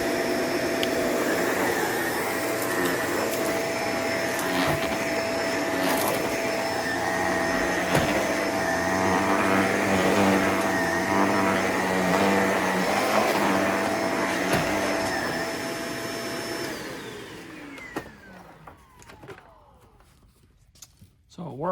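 A Shark Lift Away vacuum cleaner runs with a steady high whine as it sucks up debris, then winds down and fades to near silence in the last few seconds.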